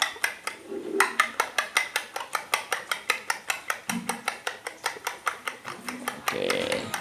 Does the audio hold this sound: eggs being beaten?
yes